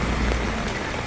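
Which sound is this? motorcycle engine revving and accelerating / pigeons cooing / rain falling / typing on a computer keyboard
rain falling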